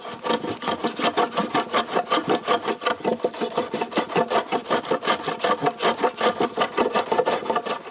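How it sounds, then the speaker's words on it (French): A wood chisel and hand plane finish sawn cuts on lumber for a firewood shed at a cottage, giving steady, rhythmic rasping strokes repeated close by with no talking. "je finis le tout avec un ciseau à bois et une varlope"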